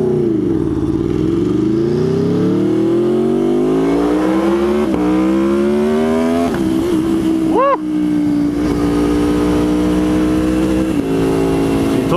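An Aprilia Tuono V4R motorcycle accelerating hard on a rough road, its loud close engine note climbing through rising gear pulls and steadying into a high, sustained roar.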